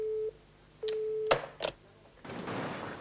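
A telephone busy signal after a call is cut off: two flat, steady tone pulses, followed by clicks and a burst of line hiss, fairly faint with no talk.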